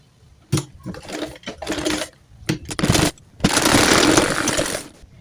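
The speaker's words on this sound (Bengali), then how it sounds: "এখন এই মাপ মতো হাতা সেলাই দেবো" A sewing machine stitches a sleeve onto a baby frock, running close and loud in short whirring bursts separated by pauses, then in one longer continuous run.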